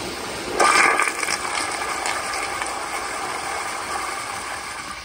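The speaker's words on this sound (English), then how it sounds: "turn up the pressure a little bit more and flush it and see how it does" A Zurn child-size toilet flushes at raised water pressure, opening with a sudden rushing surge and then settling into a steady, fairly loud hiss of refilling water for several seconds, heard up close with no talking.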